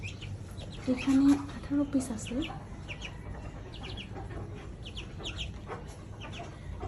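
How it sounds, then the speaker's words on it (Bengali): Small white Chinese duck ducklings peep in a steady scatter of short, high chirps, with someone talking over them and a lower clucking burst near the start. "এই যে দেখুন সাদা চীনা হাঁসের ছোট বাচ্চাগুলো এখানে"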